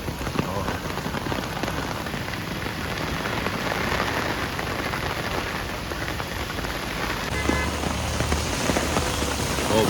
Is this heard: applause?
no